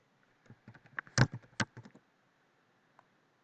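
A quick burst of keystrokes on a computer keyboard enters a search for World of Tanks, with about a dozen close, crisp taps over roughly a second and a half, a couple of louder key hits, then one last isolated click.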